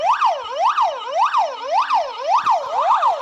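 A police siren wails in a steady, rising and falling cycle during a chase, loud and close, repeating evenly with faint road noise beneath.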